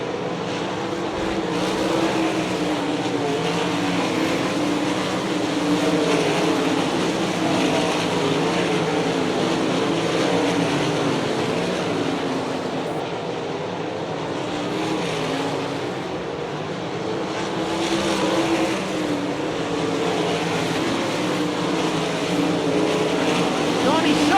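World of Outlaws sprint cars racing at Hartford Speedway, Ohio: a steady, loud engine roar from the pack that rises and dips a little as cars circle the track, with a race announcer talking over it throughout.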